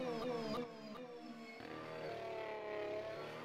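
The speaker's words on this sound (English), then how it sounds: "That is a proper Honda engine." A Honda engine in a Formula development car in rFactor 2, lapping Spa, revs high with rising and falling tones, then settles into a smoother sustained drone as the car coasts, loud and close with no speech.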